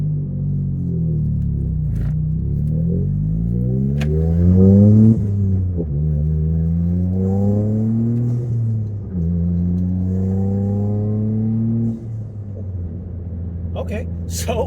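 A Toyota GR Corolla with an RK titanium center-exit exhaust, driven in the city, gives a deep exhaust drone that climbs through several rising sweeps as it accelerates and shifts. A voice talks over part of it.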